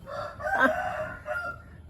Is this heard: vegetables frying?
no